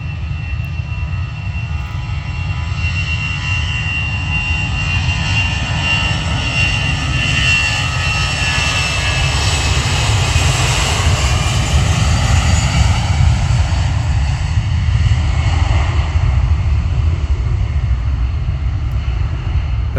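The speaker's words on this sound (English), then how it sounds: "Airbus A320" An Airbus A320 jet departs Manchester Airport in rain, a loud, steady engine roar close by with a broad low rumble that swells toward the middle and keeps going throughout, with no voices.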